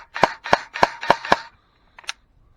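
A Specna Arms SA-X01 airsoft gun fires five sharp, evenly spaced BB shots close by, followed after a pause by a couple of fainter mechanical clicks.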